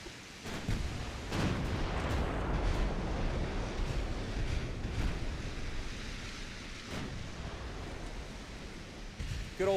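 Battleship secondary guns firing during a naval duel in Ultimate Admiral Dreadnoughts: a steady wash of deep, rumbling booms with several sharper blasts standing out, heard at a distance and fairly quiet.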